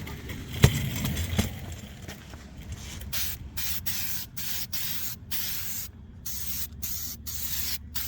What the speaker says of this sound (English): We'll apply 2 coats of this sealer, about 5 minutes in between of each other.